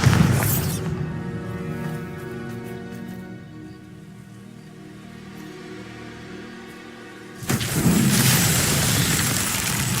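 A Bombarda blasting spell goes off in a Harry Potter video game, giving a loud booming burst at the start, a long low rumbling tail, then a second heavy blast near the end, with no talking.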